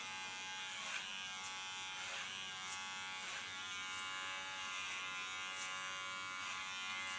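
Electric hair clippers buzz steadily and close up, trimming an ultra-short hairstyle on a salon floor. The hum runs continuously with no talk.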